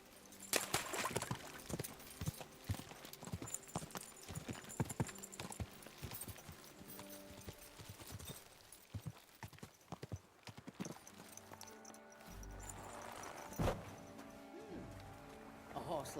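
Horse hooves clip-clopping in an uneven, busy rhythm, fairly close, with occasional snorts and background voices mixed in.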